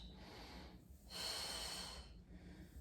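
Slow breathing in and out during a pregnancy pilates exercise, close and soft, with an audible inhale, a stronger exhale in the middle, and another breath at the end, no talk.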